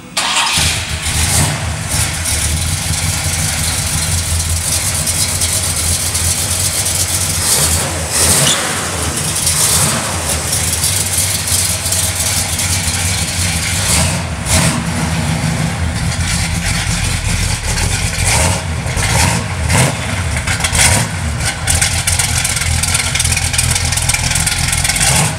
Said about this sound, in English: Have Russ go ahead and turn this 455 over so you guys can hear it run.